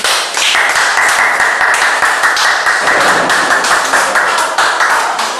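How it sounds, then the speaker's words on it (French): Clapping from a congregation at a prophetic deliverance service, loud and close, a crisp, busy run of hand claps with sharp individual taps standing out through the crowd's steady patter. "est-ce que vous pouvez applaudir?"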